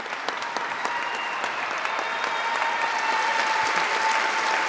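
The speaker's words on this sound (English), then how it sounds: "Give a round of applause for the Masters of Physician Assistant." Sustained applause from a graduation ceremony audience honoring Physician Assistant master's graduates, a steady dense clapping with a few scattered louder claps throughout.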